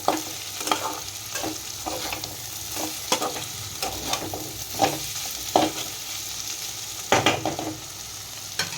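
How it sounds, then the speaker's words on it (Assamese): Chicken masala sizzles in a pan while a spoon scrapes and stirs, producing repeated scraping strokes over a steady frying hiss, close-up, with no talking. "আৰু 10 মিনিটমান ভাজিলে হৈ যাব এইখিনি।"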